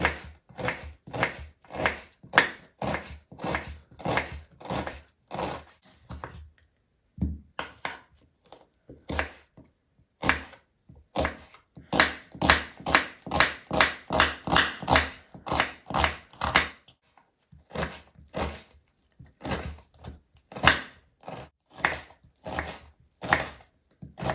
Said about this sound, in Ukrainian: Цибулю ми з вами будемо нарізати дрібненько.